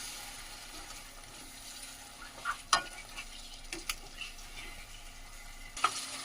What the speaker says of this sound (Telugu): మటన్ అయితే ఇందులో వేయించుకోవాలి.